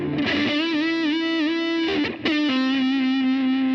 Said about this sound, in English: Then he goes this really cool lick that starts with a bend.